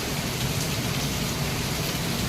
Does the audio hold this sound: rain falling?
yes